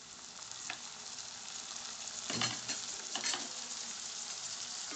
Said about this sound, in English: So to this I am going to add on the chopped tomatoes.